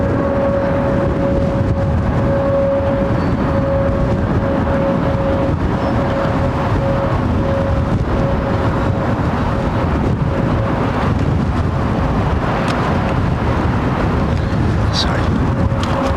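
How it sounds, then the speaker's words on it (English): GE90 engines on a large twin-jet airliner departing Heathrow runway 09R overhead: a loud, sustained roar with a steady high whine running through it, while people talk over the noise. "Big old whining set of GE90s."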